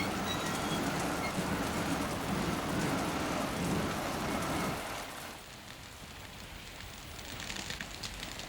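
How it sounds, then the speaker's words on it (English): A rain and thunderstorm, with loud rumbling thunder over steady pouring rain that fades after about five seconds to a softer patter with scattered drops. "It's still raining"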